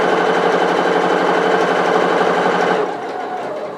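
A sewing machine stitches an apron pocket on a vintage-style apron, a loud, steady, rapid run of stitching heard alone that stops abruptly near the end, leaving a quieter hum.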